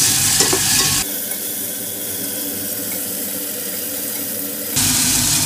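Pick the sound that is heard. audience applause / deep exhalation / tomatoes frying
tomatoes frying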